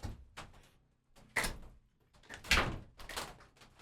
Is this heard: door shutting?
yes